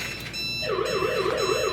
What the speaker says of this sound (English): It only uses a transducer-like sound device to make a beep or buzzer sound